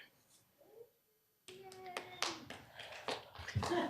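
After a quiet pause, clapping breaks out at a public meeting on workforce readiness and livable communities, a scattered round of hands that continues while voices talk over it.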